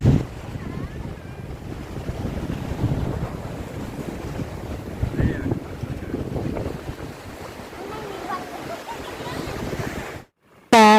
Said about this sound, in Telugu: విపరీతమైన గాలి అయితే వస్తుంది